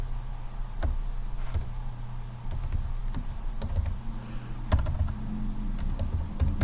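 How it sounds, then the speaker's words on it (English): Keys click in short, scattered taps on a computer keyboard as a word is typed, faint and close over a low steady room hum, with no talking. "I'm going to type in volleyball"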